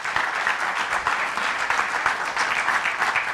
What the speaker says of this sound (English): Can you please give a big round of applause to Manoj Srivastav?